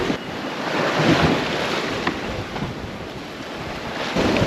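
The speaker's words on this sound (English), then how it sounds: "enjoying the waves" Ocean waves wash and surge around a sailboat far out at sea during a solo Pacific crossing, a loud continuous rush mixed with wind buffeting the microphone.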